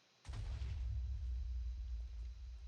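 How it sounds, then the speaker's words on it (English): A single loud explosion in a modded sandbox video game bursts in sharply after a brief silence, then rolls on as a sustained deep rumble through the rest of the moment. "explosions are working, right?"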